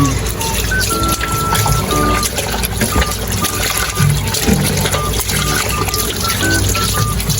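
Salted food is rinsed under running water in a home kitchen, a steady close trickle and splash continuing for several seconds with background voices and music underneath.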